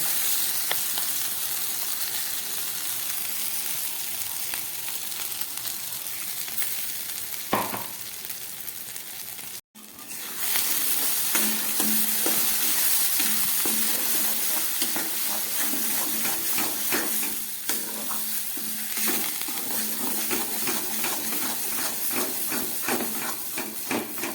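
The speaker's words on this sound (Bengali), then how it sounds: "খুব ভালো করে এই মটরশুঁটিটাকে কষিয়ে নেব" Pea paste sautéed in a hot pan for a paratha filling, a loud continuous sizzle and hiss with steady stirring scrapes and one brief pause partway through.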